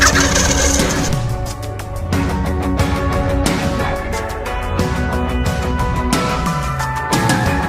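Wild turkey gobbling during a Michigan hunt in the woods, repeated loud rattling gobbles from a close bird, steady throughout with no voices.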